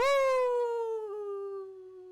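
A human voice imitates a werewolf howling at the moon: one long, drawn-out howl that starts high and slowly falls in pitch, loud and alone.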